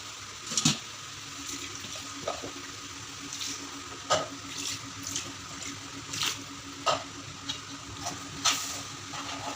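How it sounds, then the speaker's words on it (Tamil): Water being poured into a cooking pan of masala with ground coconut, a soft running trickle with recurring splashes and clinks every second or so, fairly faint and close, no talking. "தேவையான அளவு தண்ணி சேர்த்துக்கலாம்."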